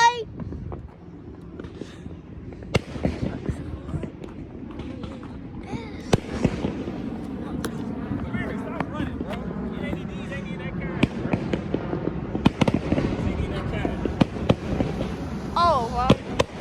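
Fourth of July fireworks popping and cracking in sharp irregular bursts, some near and loud, under frequent talking and shouting from people close by.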